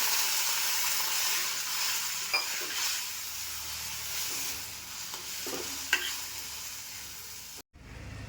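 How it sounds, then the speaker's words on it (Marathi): Onion with turmeric cooking in a kadai after water is poured in, giving a steady broad sizzle and hiss throughout with a few stirring scrapes, close and continuous, with no voices. "आता पाणी ओतून घेते. थोडासा कांदा असा शिजला पाहिजे."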